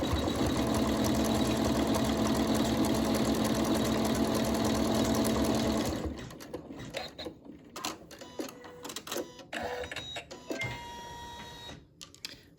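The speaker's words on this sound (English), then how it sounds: "The next step is it will stitch a seam." An embroidery machine stitches a seam on a fabric pincushion, a steady mechanical whirring buzz for about six seconds, then stops, leaving quiet handling clicks and rustles.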